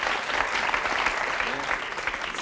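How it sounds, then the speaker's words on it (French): An audience claps loudly and steadily in a brief, dense burst of applause that fills the whole moment. "On peut les applaudir très, très fort."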